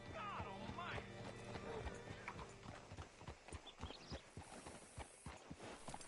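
Horse hooves clip-clop at a walk in the video game Red Dead Redemption 2, a close steady run of clopping steps, with a brief whinny and game sounds near the start.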